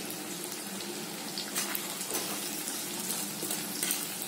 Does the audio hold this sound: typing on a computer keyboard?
no